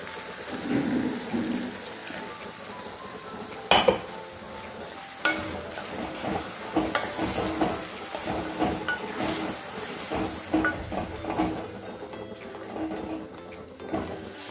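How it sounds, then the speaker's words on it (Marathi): Water poured into a pan of frying ridge gourd sabzi (dodka bhaji) sets off a loud, rain-like hiss with sharp crackling bursts and a few scraping stirs, close and continuous, with no voices. "थोडंसं पाणी टाकून घेत आहे।"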